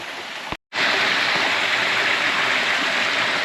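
A river in Hawaii rushes over rocks with a steady, loud, broadband wash of flowing water, close by and continuous, broken only by a very short dropout near the start.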